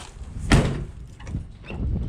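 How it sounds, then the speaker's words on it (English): An old car's door swung hard and slammed shut, one loud thud early on, followed by the low rumble of the engine idling high after a rebuilt Rochester Quadrajet carburetor. "Now we have to slam the door for all it's worth."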